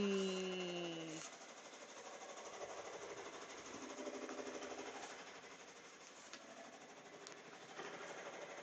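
A sewing machine stitching red and black jackets, running as a steady, fairly quiet mechanical whir throughout, with an electronic tone at the very start.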